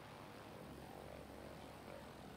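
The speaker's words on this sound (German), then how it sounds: "Oh, ein Flugzeug!" A propeller airplane flies over a city in the video game Cities: Skylines, a very faint, steady droning hum with no other sounds.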